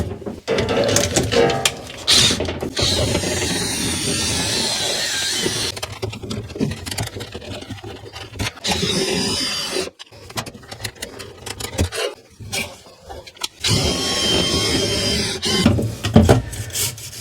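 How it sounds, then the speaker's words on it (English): Cordless drill spinning a rotary brush inside a clothes dryer vent duct, harsh scraping and whirring in uneven bursts with short pauses between runs, loud and close. "they're going to run the drill a little bit at a time"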